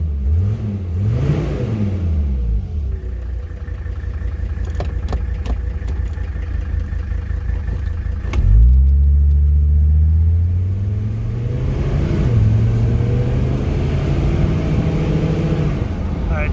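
Mercedes 300TD W123 with an OM617 diesel engine revving up and settling back, a steady close rumble with rising and falling pitch and a harder surge partway through, with a slightly rough idle between.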